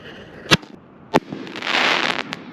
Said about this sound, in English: Fireworks going up.